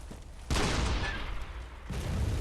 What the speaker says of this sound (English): Am I allowed to operate the cannon?